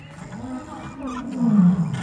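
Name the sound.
lions roaring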